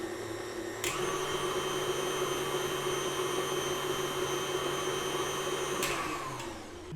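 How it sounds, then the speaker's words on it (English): An electric mixer fitted with a whisk attachment beats orange cupcake batter. Its motor gives a steady, close whirring hum that starts abruptly, holds evenly for about five seconds, then cuts off, with no voices. "I use the same whisk attachment. It's perfectly fine. And then just whisk it up."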